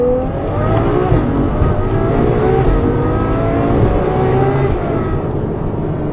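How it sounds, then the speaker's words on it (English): A Ferrari 812 Superfast V12 engine blips and roars through a downshift, its pitch sweeping up and falling in a loud, continuous, close snarl with no voices. "Just listen to the response of the downshift on this thing. That's firing up 12 cylinders."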